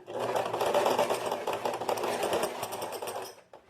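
A sewing machine backstitches a seam on tailored trousers, running in a continuous fast rattling burst for several seconds before stopping abruptly near the end.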